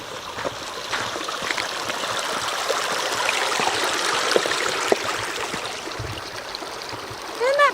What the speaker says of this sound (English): Oh, it's the creek!